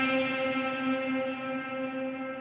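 One sustained guitar note rings out through a Line 6 Helix, with a long 200 ms pre-delay holding back the reverb so the wash blooms after the attack and slowly decays, heard alone.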